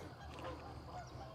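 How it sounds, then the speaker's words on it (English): Several geese honk as they take flight, a short burst of overlapping calls from somewhat far off, heard outdoors without speech. "Got some geese flying off down there"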